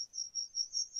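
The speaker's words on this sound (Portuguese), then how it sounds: "Isso, é o grilo." A single cricket chirps steadily in a rapid pulsing trill, thin and continuous, close and alone with no voices.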